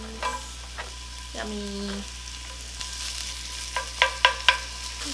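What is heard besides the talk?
onions stir-frying in a pan with fish cakes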